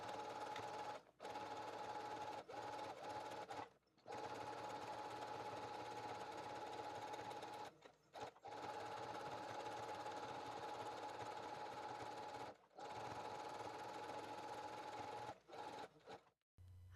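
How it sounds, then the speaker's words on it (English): A sewing machine runs in long steady stretches as it stitches a canvas banner. A constant mechanical whir stops briefly several times between runs. "Sew the banner, leaving an opening for the pocket of 2 inches in one side"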